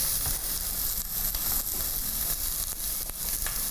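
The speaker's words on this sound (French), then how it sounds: "dans la même poêle, je vais rajouter l'oignon et l'ail" Onion and garlic added to a hot frying pan sizzle loudly and steadily, a dense continuous crackle with small pops and stirring scrapes, close up and with no talk over it.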